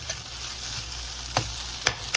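Fried rice with meat sizzles steadily in a hot pan, broken by a few sharp, quick spatula scrapes near the end, close and clear with no voices.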